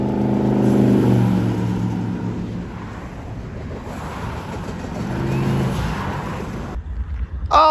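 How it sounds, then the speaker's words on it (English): A train passes by near a railway tunnel, a broad rumbling roar with low mechanical hum that swells and recedes, ending in louder rustling noise close to the microphone. "Oh, the other train just passed"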